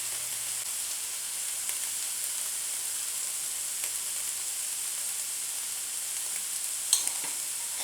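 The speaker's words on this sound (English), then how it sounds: "adding the shallot and the garlic to the frying pan" Steady, bright sizzling of shallot and garlic frying in a pan, constant hiss with an occasional faint pop, no voices.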